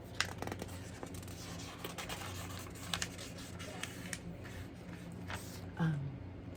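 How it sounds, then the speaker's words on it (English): Pages of a book are handled up close, giving faint, soft paper rustles and crinkles in a quiet room. "oh, the paper sounds really cool"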